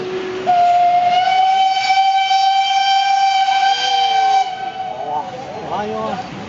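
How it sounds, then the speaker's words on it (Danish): Steam locomotive K 582 arrives with a loud, sustained steam whistle held for several seconds, then hissing steam and rail clatter as it rolls closer. "Så der kommer et kæmpe tog."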